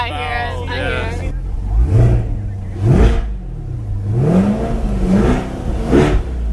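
A Corvette C8 sports car in track mode revs several times, engine pitch swelling and falling in repeated rising whoops, close and loud, after a brief burst of voices at the start.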